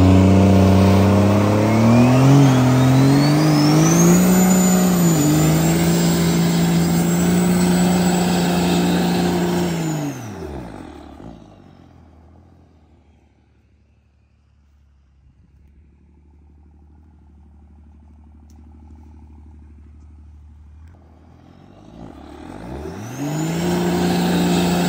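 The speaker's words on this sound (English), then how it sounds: "You ever wonder what it's like driving a 1000 horsepower Cummins?" A 1000-horsepower Cummins diesel truck doing burnouts revs hard and loud, its engine note climbing, then drops away to a low, near-silent idle before roaring back up at the end.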